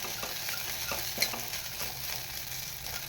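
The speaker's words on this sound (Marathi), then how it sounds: "खायला मस्त असा साबुदाणा आपण तुपावरती परतवून घेतला." Sago pearls stirred and roasted in ghee in a pan for kheer, making a steady, close sizzling hiss with soft scraping from continuous stirring and no talking.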